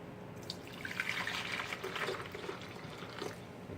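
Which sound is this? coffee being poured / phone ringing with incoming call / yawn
coffee being poured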